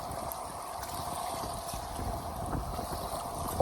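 A kayak moves through wavy water with steady splashing and rushing wash against the hull, wind buffeting the microphone throughout in a continuous outdoor roar.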